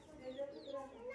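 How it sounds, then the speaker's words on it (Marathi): Hens clucking inside a backyard chicken coop at a home, soft and fairly distant, with repeated short calls over a steady low background hum. "आणि इथे आहे कोंबड्यांचा पिंजरा."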